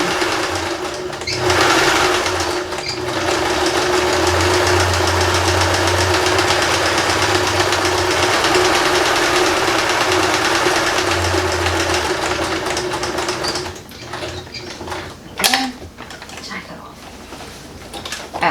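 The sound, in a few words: sewing machine stitching recycled jeans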